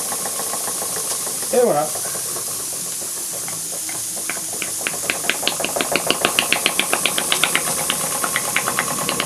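A Boulton and Watt steam engine with no governor starting up, hissing steam building into a quickening series of rhythmic chuffs and knocks, close by, with a brief spoken voice early on.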